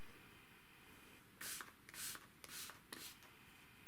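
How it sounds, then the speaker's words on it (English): Short hissing bursts of cleaner sprayed onto goalkeeper gloves, four quick pumps close to the nozzle in a quiet room, ending on a sudden knock. "Do it with both gloves, 3 or 4 sprays if possible"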